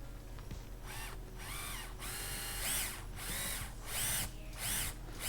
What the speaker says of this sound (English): I'm just going to drill the head off the rivet